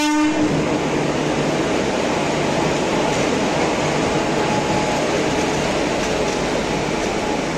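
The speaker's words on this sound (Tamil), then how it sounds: "நம்ம இந்த short Chennai Egmore to Puducherry Auroville express ஜேர்னியை ஸ்டார்ட் பண்ணலாம்" Auroville Express (16115) train at Chennai Egmore platform, heard as a steady loud rumble of rolling stock with a brief horn-like tone at the start, continuous throughout with no talking.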